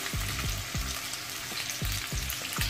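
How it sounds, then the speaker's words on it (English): Fish searing in a pan with turmeric and chili powder, a continuous bright sizzle broken by regular thumping knocks from a utensil, close and fairly loud. "we just want to lightly sear the fish"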